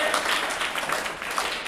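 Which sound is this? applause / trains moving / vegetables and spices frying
applause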